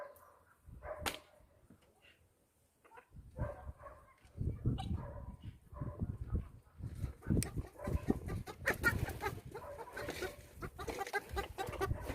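A sick rooster that keeps hiccuping clucks and squawks in bursts, with scattered barnyard fowl calls and shuffling, starting quiet then growing busier and louder throughout.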